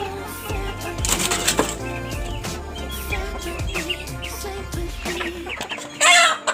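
Free-range village chickens, including two-month-old kampung chicks, cluck and call close by in a yard. The calls come in short bursts over a steady low hum, and a louder sharp squawk rises near the end.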